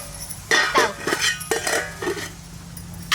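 Sambar with soya chunks being stirred in a metal pot, a ladle clinking and scraping against the sides in several quick bursts over a low background hum, with no talking.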